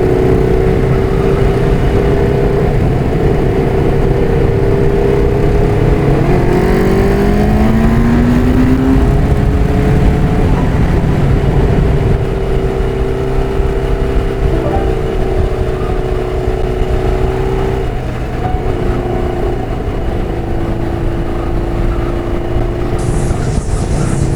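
A Suzuki Katana motorcycle engine runs loudly and close, its pitch rising and falling as it revs, with a rough, breathy blowing note from a loosening exhaust manifold.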